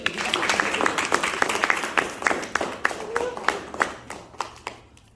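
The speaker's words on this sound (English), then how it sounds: "give her a round of applause" A small crowd claps for several seconds, sharp overlapping hand claps in a steady patter that thins out toward the end, with faint voices underneath.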